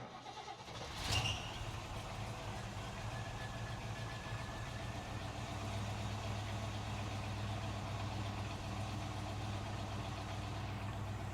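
A Chevrolet Nova Super Sport cranks briefly and catches on a cold start, then settles into a loud, steady, lumpy idle that carries on for several seconds with no one talking.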